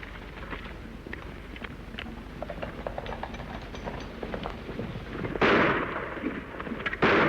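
Gunfire in an old Western drama echoes across a rough outdoor scene as a series of sharp cracks and booms at a moderate distance, with several louder blasts near the end.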